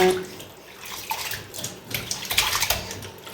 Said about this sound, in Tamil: சிக்கன் நல்லா இந்த மாதிரி வாஷ் பண்ணிக்கோங்க.